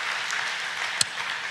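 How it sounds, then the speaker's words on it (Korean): A church congregation claps in thanks during a Parents' Sunday worship service, a steady wash of applause through the whole moment with one sharp louder clap near the middle. "어머니의 아버지의 노차지에 감사의 박수 드리겠습니다"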